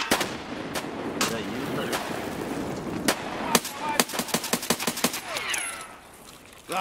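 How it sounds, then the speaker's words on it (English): Rapid gunfire in the video game Escape From Tarkov: a long string of sharp shots, near and loud, some single cracks and then a fast burst of closely spaced rounds, over a steady game background. "Is this guy shooting at you?"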